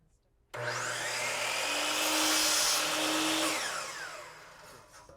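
A miter saw spins up sharply and cuts through wood molding in one continuous, loud, close whine that swells mid-cut and then winds down.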